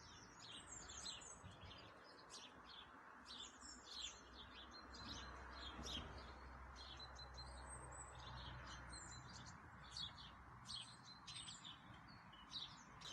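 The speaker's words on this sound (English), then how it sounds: "And the birds have all come back." Small birds chirp and tweet continuously in the distance over a soft outdoor background hum, with no one speaking.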